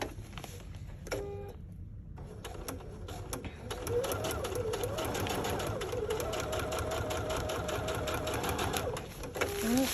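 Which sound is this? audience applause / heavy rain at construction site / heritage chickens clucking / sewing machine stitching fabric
sewing machine stitching fabric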